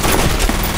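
Gunfire from the first-person shooter F.E.A.R., a dense burst of loud, continuous shots with no clear gaps over a short moment, sounding close and harsh with no voices.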